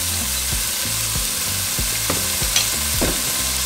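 Ground beef seasoned with cumin and salt sizzles loudly in hot oil in a pan, a continuous close frying hiss with several rhythmic scraping stirs of a utensil and no speech.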